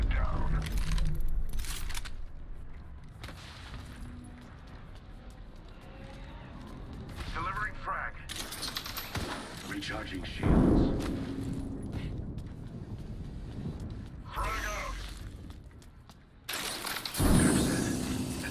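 Gunfire crackles through a video game firefight, with bursts and sharp impacts recurring across the clip, the heaviest around the middle and near the end, mixed with a player talking over the action.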